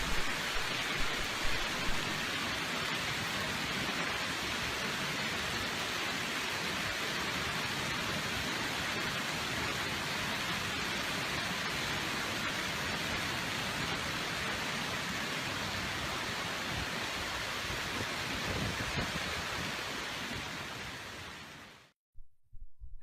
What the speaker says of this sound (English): Take a look at the magnitude of this recent hailstorm.